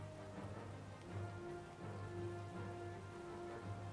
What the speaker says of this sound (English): because it's raining, we're not getting the awesome sound effects we normally would